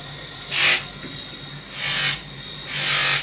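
Earrings are polished with three separate rasping rubs, each swelling then fading over a faint steady hum, close and moderately loud, with no one speaking.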